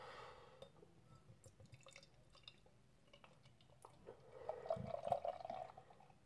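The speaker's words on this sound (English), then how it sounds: "Give it a bit of a hard pour to try and generate some head." Hunter Double Milk Stout poured hard from a can into a glass, a soft liquid stream that swells into a louder, frothy gush near the end.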